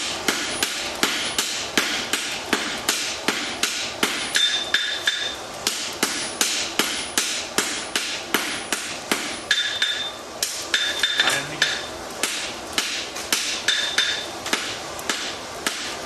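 Hammer blows forging a steel wedge ring out loud and close in a steady, even rhythm, roughly two strikes per second, with bright metallic clangs continuing throughout.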